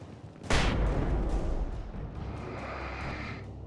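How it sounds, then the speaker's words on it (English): A flashbang goes off in Alan Wake Remastered with one sudden loud bang, then a long roaring rumble that fades slowly over several seconds, with no talk. "Flashbang."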